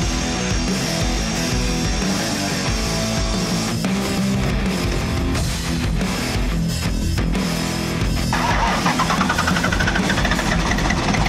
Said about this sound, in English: When Dusty was doing some cleanup, he knocked the exhaust off